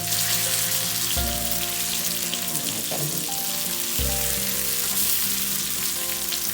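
Pieces of shark fish fry in oil in a pan over a low flame, giving a steady, close sizzle and crackle throughout, with a couple of brief knocks and no voices.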